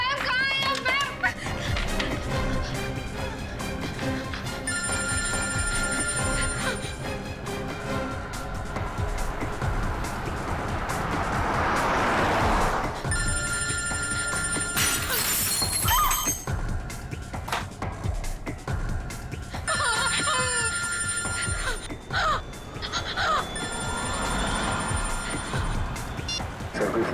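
A telephone rings unanswered in a TV crime drama scene, sounding in three repeated bursts of bright electronic tones over background music and movement, with voices nearby.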